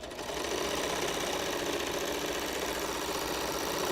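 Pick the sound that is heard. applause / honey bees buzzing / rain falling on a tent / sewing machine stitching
sewing machine stitching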